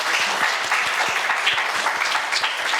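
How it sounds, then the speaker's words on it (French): Warm audience applause after a reading at a French literary meeting with Rokhaya Diallo at Villa Europa. Steady, dense clapping from a roomful of people is heard close and even throughout, with no talk over it. "On peut vous applaudir, je pense."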